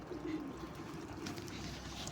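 A dove coos softly near a house, one low muffled call against a quiet background, with no voices.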